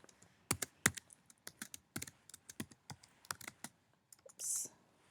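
Chart title being typed on a computer keyboard, a quiet, close run of irregular key clicks and taps with brief pauses, ending in a short soft burst of noise.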